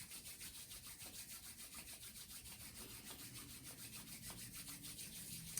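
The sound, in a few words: rubbing palms together in front of chest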